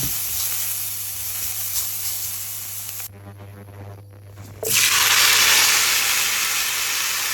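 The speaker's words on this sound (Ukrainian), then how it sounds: "А на цій сковороді будемо жарити нашу мариновану цибульку." Marinated onion hitting a hot frying pan: a steady sizzle with a low hum beneath, a brief quieter gap, then a loud surging hiss as the onion goes in and keeps frying.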